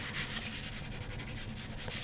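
Paper is rubbed firmly by hand onto a freshly glued vintage mini album page, making a close, steady scratchy swishing with quick back-and-forth strokes and no talking.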